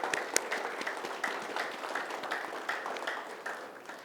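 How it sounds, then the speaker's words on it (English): A room full of corporate staff at a leadership talk breaks into steady applause, many hands clapping at once in a dense, even patter that holds for several seconds at moderate loudness with no voices over it. "clap for yourself."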